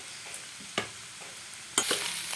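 Potato curry with asafoetida being stirred in a pan, a faint low sizzle broken by several sharp scrapes and clinks of the spoon, close by and without speech.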